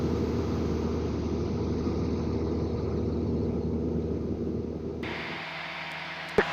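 A small airplane engine drones steadily in flight, a constant low hum with cabin noise, cutting to a quieter, different background about two-thirds through with a couple of sharp clicks at the end.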